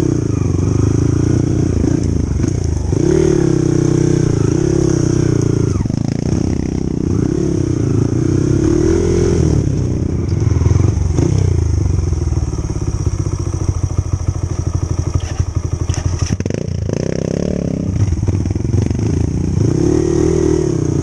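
A motorcycle engine with water in its fuel tank runs loudly and steadily up close, with rattling, uneven revs and clattering mechanical knocks throughout.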